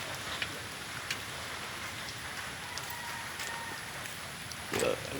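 Steady rain falls in a soft, continuous wash with occasional sharper drop ticks during an outdoor census round, faint and even, with a brief low rustle near the end.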